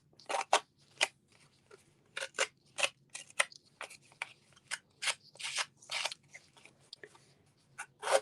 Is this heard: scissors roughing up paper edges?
yes